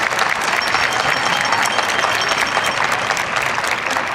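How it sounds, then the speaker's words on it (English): Sustained applause from a large crowd at a school ceremony, dense and steady clapping that fills the whole stretch at full volume, with a few faint voices mixed in. "Let's give them another round of applause."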